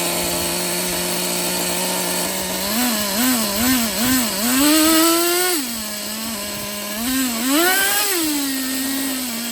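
A Traxxas Pro .15 nitro RC engine runs close and loud, its high buzzing note rising and falling in repeated revving swells over a steady idle, with no talk.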